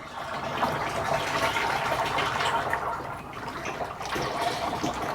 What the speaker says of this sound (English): So now I can pour the oil